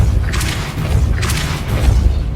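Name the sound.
Depulso spell blast, Hogwarts Legacy video game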